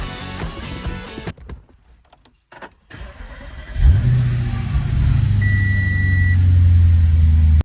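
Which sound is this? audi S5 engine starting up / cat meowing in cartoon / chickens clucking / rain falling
audi S5 engine starting up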